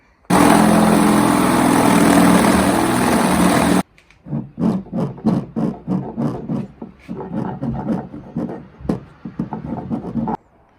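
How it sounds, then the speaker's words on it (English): A power drill whines loudly for a few seconds drilling a hole in a paddle board, then stops; short bursts of handling and clattering knocks follow. "So I'm going to drill a smaller hole"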